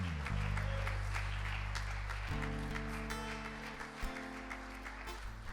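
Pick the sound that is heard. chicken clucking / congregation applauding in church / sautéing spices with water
congregation applauding in church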